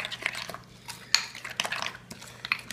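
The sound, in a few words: mixing Creole mayo in a bowl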